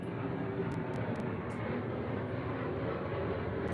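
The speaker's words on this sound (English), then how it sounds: "It's like the 17th plane in this 45-minute episode." A steady, fairly loud roar of an airplane flying overhead during a podcast recording. The rumble stays constant throughout, with a few faint high ticks and no voices.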